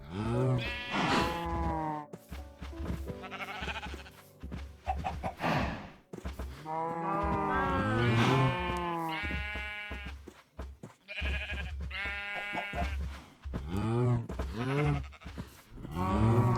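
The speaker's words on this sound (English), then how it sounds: "all the cows didn't have time to wander off, and I was able to push them in fairly quickly" Cows being pushed into a pen in a video game call out in repeated overlapping lows and bellows that come close and loud in waves, with short pauses between groups.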